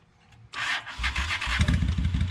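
A vintage carbureted Italian motorcycle cranks briefly, then catches and settles into a rapid, loud, uneven idle thump close by.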